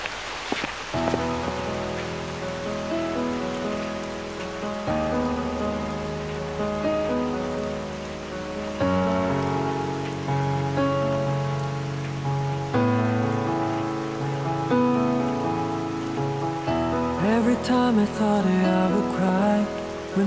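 Steady rain falls throughout a rainy-day drama scene, a soft continuous patter sitting beneath a sustained musical score.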